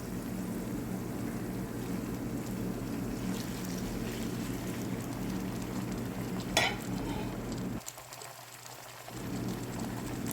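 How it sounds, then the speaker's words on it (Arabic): Onions frying in a pan for a restaurant-style party pasta dish, a steady broadband sizzle with stirring scrapes close by, one brief sharp clink midway and a short dip in the hiss near the end; no one talks. "راح اخلي البصل يتحمص معاي لمدة 3 إلى 5 دقايق."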